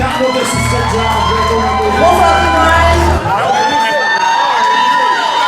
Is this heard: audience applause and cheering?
yes